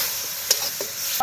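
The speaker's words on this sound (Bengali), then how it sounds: "মশলাগুলো দিয়ে ভালো করে নেড়ে নিলাম।" Spices and chopped tomato are stirred in a frying pan of dal being cooked, giving a soft, steady sizzle with a few light scraping strokes.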